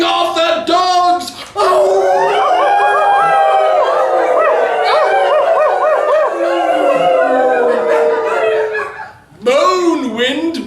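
Human voices imitate a chorus of howling dogs for a Halloween poem reading, with long, wavering, overlapping howls that rise and fall loudly for several seconds and a few chuckles around them.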